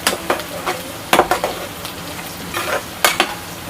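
Whole spices, freshly pounded ginger and garlic sizzle in hot oil in a pan while being stirred for an onion biryani curry. The steady frying hiss is broken by sharp scraping strokes of the spoon against the pan in irregular bursts.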